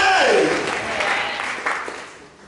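A church congregation breaks into loud applause and cheering praising Jesus during a worship service, a dense wash of clapping that swells at once and then slowly fades.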